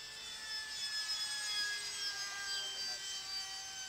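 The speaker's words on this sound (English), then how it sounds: "Listen to how it sounds when it passes by us again." A Banana Hobby 70mm electric ducted fan F18 RC jet makes a slow, low-throttle pass, giving a steady high-pitched whine at moderate distance that swells gently and fades slightly.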